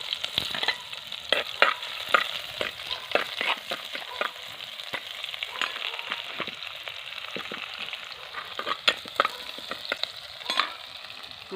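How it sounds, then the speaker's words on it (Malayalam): Onions, ginger, garlic and green chillies sautéing in a pan: a steady close frying sizzle with frequent spatula scrapes and stirring clicks throughout, no voices. "വഴറ്റാൻ പോവാണേ. അത് ആദ്യം ഉള്ളി ഇടുന്നേ."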